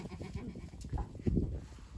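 Goats bleat in a wavering chorus at close range, several animals calling over one another without pause.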